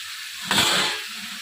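Chopped tomato and green chillies hit hot oil in a pan, a sudden close hiss that swells and fades within a second over a quiet kitchen.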